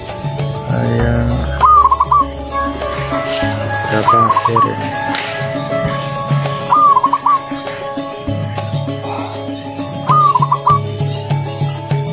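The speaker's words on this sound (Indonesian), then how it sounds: "Ayam" A chicken clucks in a short repeated phrase about four times, steady and clearly audible over layered background sound, while a person talks at points.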